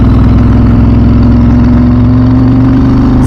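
A Ducati 996 SPS motorcycle engine drones steadily during a ride, a loud, close, continuous low rumble with a slight rise in pitch toward the end.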